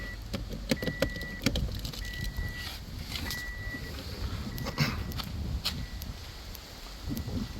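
A Toyota MMT semi-automatic clutch actuator cycles during clutch calibration, giving brief motor whirs and scattered mechanical clicks over a steady, noisy background.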